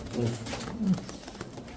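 Tumbler pigeons coo in low, soft bursts at close range, a couple of throaty calls rising over faint background noise and murmuring voices.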